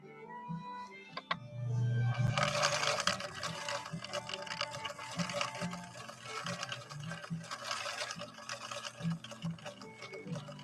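A 1964 Viking Husqvarna 19E Special sewing machine runs steadily at close range, a continuous mechanical whir with rapid needle ticking that holds for most of the stretch after a brief start.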